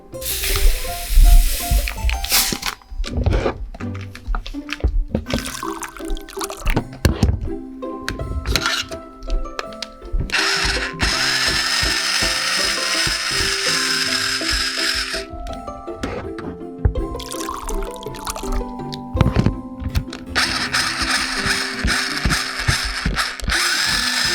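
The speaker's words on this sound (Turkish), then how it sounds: "Crystal, mamayı karıştırmak için de blender'ı değil, mikseri kullanalım." An electric hand mixer in a baby-care video game whirs in bursts amid clattering kitchen sounds and game-like effects, with sustained buzzing runs and brief pauses between them, mixing baby food.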